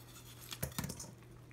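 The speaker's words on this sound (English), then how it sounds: "I find a nice big bowl and I dump out all the pieces that have been cut" Diced watermelon pieces dumped from a cutting board into a big bowl, giving a brief pair of soft, wet clattering thumps close by, with no talking.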